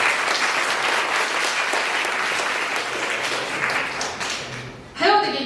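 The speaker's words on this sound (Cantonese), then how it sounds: "我哋俾啲掌聲俾3組嘅台前幕後成員先啦。" An audience at a university drama society's freshman show gives the cast and crew a dense, sustained round of applause that gradually thins, before a voice speaks at the end.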